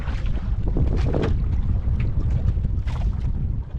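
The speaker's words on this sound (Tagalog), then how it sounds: "Mahangin na eh." Strong wind buffeting the microphone outdoors, a constant roaring rumble with gusty swells and no voices.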